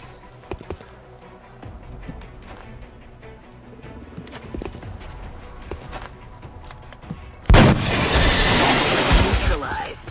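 A sniper rifle shot in the XCOM video game, heard as one sudden loud blast that rolls into a dense, sustained burst of noise after quieter game sounds and someone talking.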